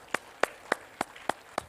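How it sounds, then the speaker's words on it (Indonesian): Applause at a speech by Ridwan Kamil during a press launch event, heard as six crisp, evenly spaced claps in a steady rhythm, fairly faint and with no talking over them. "Tepuk tangan."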